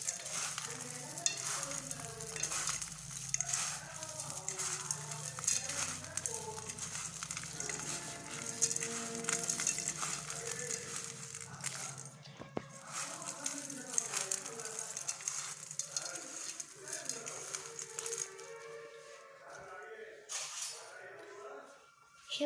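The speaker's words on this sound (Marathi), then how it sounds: "त्याच्यानंतर आपण थोडीशी चटणी घालायची आणि हे आता मिक्स करून घ्यायचं" Chutney being stirred into a dish sizzling in a pan, a continuous frying hiss with repeated spatula scrapes while someone talks over it, the cooking fading near the end.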